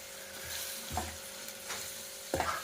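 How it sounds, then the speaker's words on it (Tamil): Cooked rice tossed into hot oil and seasoning for lemon rice, stirred in a pan with a few scraping strokes over a soft, steady sizzle, close by and moderately quiet. "இப்போ நம்ம எடுத்து வச்சுருக்க சாதத்தை இதில் போட்டுருவோம்."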